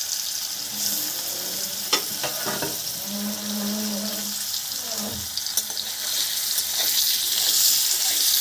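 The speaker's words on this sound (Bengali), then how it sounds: "পনিরগুলো ভেজে নিচ্ছি" Paneer pieces frying in oil in a pan, an even close sizzle with occasional clinks and scrapes as they are turned, swelling slightly near the end.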